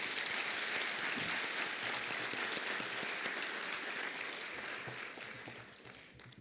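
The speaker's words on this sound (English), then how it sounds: "can we have a round of applause for all of those who support our students?" Crowd applause at a college academic awards event, a dense, sustained round of clapping from a large audience that slowly thins toward the end.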